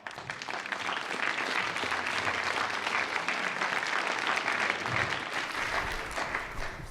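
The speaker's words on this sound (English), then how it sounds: "So guys, give yourself a big round of applause." Sustained applause from a large audience at a youth summit, dense steady clapping that holds for several seconds and then eases slightly, with no talking.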